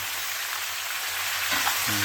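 Food sizzling steadily in a hot frying pan while fresh pork from a home hog slaughter is being fried, a dense continuous crackle heard up close with no talking.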